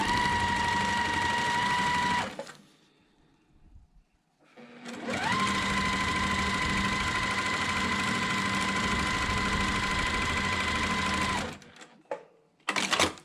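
Sewing machine stitching a fabric strip onto a dryer sheet foundation for string-pieced quilting, a steady close whir running for a couple of seconds, pausing, then a longer even run, ending with a few handling clicks.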